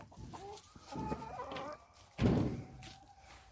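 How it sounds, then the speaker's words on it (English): Chickens cluck nearby in short, irregular bursts, one louder squawk midway, fairly quiet overall with no speech. "I'm filming the chickens."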